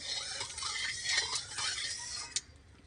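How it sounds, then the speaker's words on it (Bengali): Mustard oil is stirred in a pan with a utensil, giving several close, bright scraping strokes in quick succession that end with a single sharp clack. "সর্ষের তেলটা দেওয়ার পরে ভালো করে একটু নাড়াচাড়া করে নিচ্ছি"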